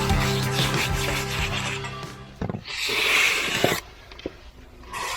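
A trowel scrapes and rubs over fresh concrete while the top step gets its finish. Close, uneven strokes come with a few knocks and pauses, and no one speaks.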